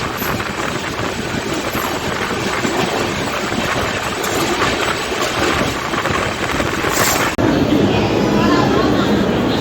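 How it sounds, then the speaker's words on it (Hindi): Train noise at Hazrat Nizamuddin railway station, a loud steady rumble with faint clatter and a sudden change in tone near the end, while a person talks over it. "ये है हज़रत निजामुद्दीन स्टेशन"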